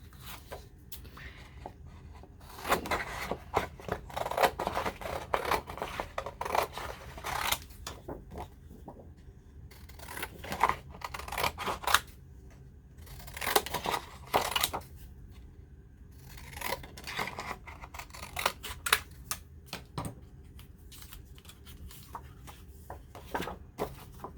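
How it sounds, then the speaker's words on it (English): Scissors cut through printed paper in repeated bursts of close snipping and rustling, separated by short pauses of handling noise. "We need scissors."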